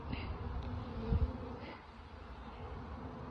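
Bees hum in an open beehive during a hive check, a dense steady buzzing drone, close and continuous, with a few soft knocks from handling and no talking.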